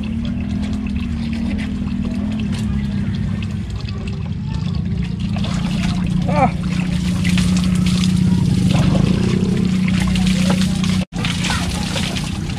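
Water from a faucet runs steadily at a rural countryside home, a continuous close splashing and sloshing stream that goes on throughout while a person talks over it.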